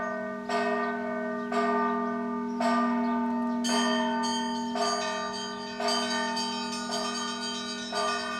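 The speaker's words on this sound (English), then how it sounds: "Wow, listen to the sound. It's coming from, I think, the bell right there." A town bell in Tokyo rings with repeated strikes about once a second, each leaving a long, resonant tone that echoes and overlaps the next; loud, alone, with no talk.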